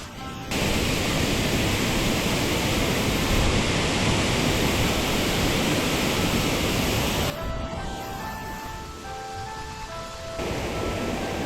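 Odaki, the wide male waterfall on the forest path between Tsumago-Juku and Magome-Juku in Japan, gives a loud, constant broadband rush of falling water, heard close and alone, easing slightly toward the end.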